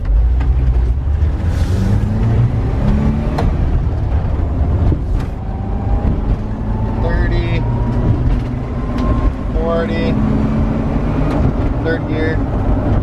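Engine of a 1984 Volkswagen Vanagon pulling away in first gear after sitting for 18 years, a steady low drone with rising and falling revs under occasional talk.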